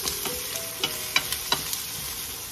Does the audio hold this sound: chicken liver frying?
yes